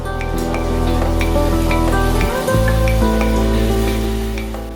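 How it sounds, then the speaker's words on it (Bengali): Spice masala for a thin kajli fish curry sizzles in a pan as water and salt are added and stirred: a loud, continuous hiss over a steady hum, briefly dipping midway, with no talking. "এবার পরিমাণ মতো জল ও নুন দিয়ে নেড়ে চেড়ে ঢাকা দিয়ে দেব"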